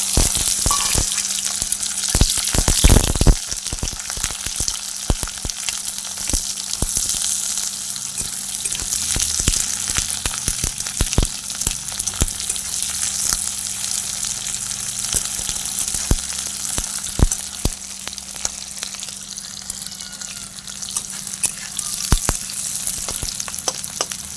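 Sliced onion fries in hot oil in a home kitchen, giving a continuous close sizzle with occasional stirring clatters and a loud burst near the start, with no talk.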